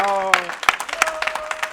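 Brief, scattered clapping from a small audience, light and close, mixed with some voices.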